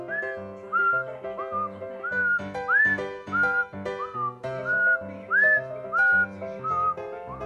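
Someone whistles a short, repeating tune of rising and falling notes, clear and close, over a soft backing of music.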